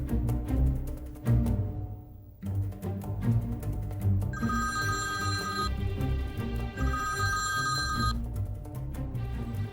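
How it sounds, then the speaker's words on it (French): A telephone rings with a bright electronic trill in two repeated bursts, heard over a dense, loud background of music or room noise with no speech. "J'attends avec impatience le coup de fil de Christophe."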